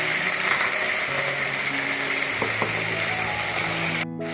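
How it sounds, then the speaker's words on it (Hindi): Chicken and mashed bottle gourd fry together in a pan with a steady, loud sizzle and a few stirring scrapes, and the sizzle drops off abruptly at the end. "दोनों को इकट्ठा भून लेंगे।"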